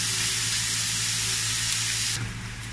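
Bacon frying in a dry pan with no oil, a loud steady sizzle and hiss that drops to a softer sizzle near the end, heard alone without talk.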